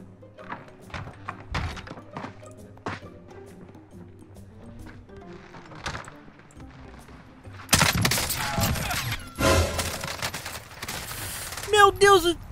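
Gunfire in the video game Warzone bursts out in loud, dense volleys in the latter half, after a quieter stretch of scattered thumps and game noise.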